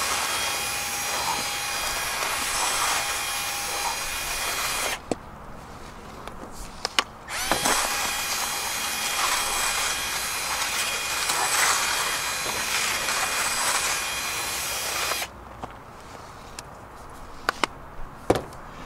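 A GOLDROP machine pulls magnetite out of black beach sand from Cape Disappointment, giving a loud, steady whirring drone close by. It cuts off twice for a few seconds, with small clicks and knocks in the gaps.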